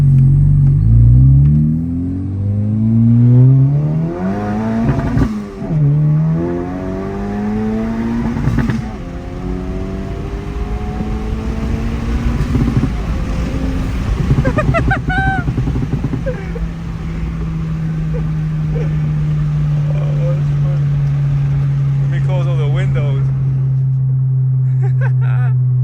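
A Honda Civic Type R FL5 with an aftermarket turbo inlet pipe revs and accelerates through several gears, loud rising engine sweeps heard from inside the cabin with windows open, then settling into a steady drone.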